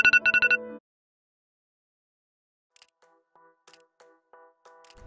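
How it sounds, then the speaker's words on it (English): The iPhone's default Radar alarm tone sounds as a burst of rapid, bright electronic beeps, followed after a pause by fainter repeating beep patterns. "The iPhone's default alarm sound is called Radar,"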